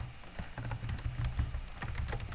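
Rapid typing on a computer keyboard while a note's name is entered, a steady run of close, crisp key clicks with no voices.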